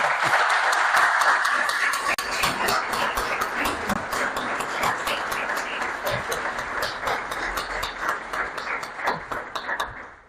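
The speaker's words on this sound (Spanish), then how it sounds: "Guillermo Sapia, así que pido un fuerte aplauso para él." Sustained audience applause at a book presentation on the founding of Villa Dolores fills the room, dense and steady, easing off toward the end.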